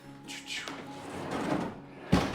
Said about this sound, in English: I hear people don't like pocket doors. I love pocket doors because look at this.